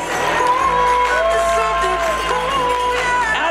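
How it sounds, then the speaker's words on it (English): An audience at a high school graduation fashion show fundraiser cheers and claps in a loud, steady roar of crowd noise with whoops and shouts throughout, with faint tonal sounds running beneath. "One more big round of applause."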